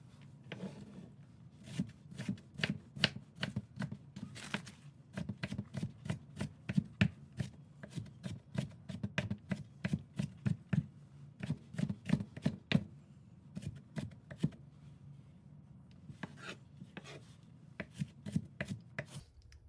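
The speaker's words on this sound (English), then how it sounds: "See how I'm rocking the knife down? That's very important. Just rock the knife down. That's how you cut." A sharp knife rocks down onto a cutting board, making quick, close, crisp taps in bursts. The chopping pauses briefly once or twice, and there is no talk over it.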